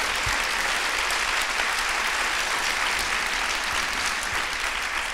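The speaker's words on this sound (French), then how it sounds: "ça se sent à la chaleur de vos applaudissements" Audience at a Palais Garnier ballet event applauding ballet dancers, sustained dense clapping from a full room that holds steady and loud from start to finish.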